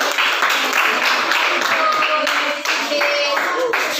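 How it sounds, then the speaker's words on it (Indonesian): Classroom students clap for a group during a practice teaching lesson, a loud, dense burst of many hands close by that runs steadily for several seconds, with some voices mixed in. "beri tepuk tangan untuk kelompoknya"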